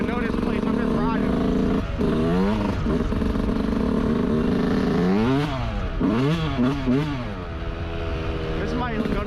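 A Yamaha YZ125 two-stroke dirt bike engine on a trail ride, loud and close, revving up and down in repeated sweeping bursts with clattery texture; a rider talks at points over the engine.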